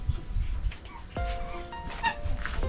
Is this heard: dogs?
yes